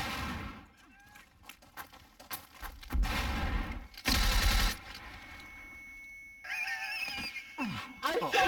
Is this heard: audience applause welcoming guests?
no